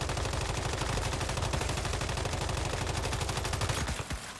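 Rapid sustained automatic fire from an M416 rifle in the video game Once Human, a steady stream of loud, evenly spaced shots that stops abruptly near the end.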